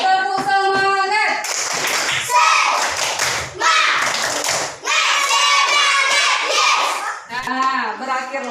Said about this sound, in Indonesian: Kasih aplaus buat kita semua.